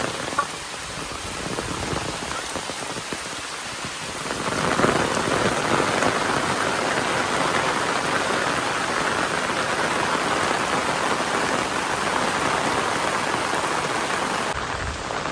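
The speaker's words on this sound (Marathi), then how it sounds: "पाऊस, मोठो इलो" Heavy monsoon rain pours over the Konkan countryside where cattle are herded, a dense, steady hiss that swells louder after a few seconds and keeps up without a break, with no voices.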